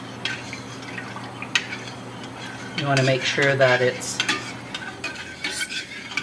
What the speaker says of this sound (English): keep stirring in that salt.